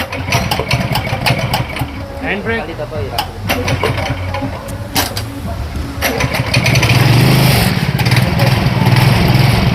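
A small ATV engine putters and idles roughly nearby at an adventure park, rising in pitch toward the end, with people talking over it.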